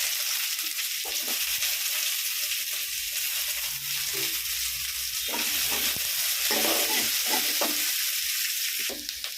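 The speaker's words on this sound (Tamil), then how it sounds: "நசுக்கின பூண்டு இப்போ வெங்காயம் போடுறேன்ப்பா." Crushed garlic and a chopped onion frying in a pan for a home-cooked banana stem kootu, with a steady close sizzle and intermittent scraping stirs throughout, no talking.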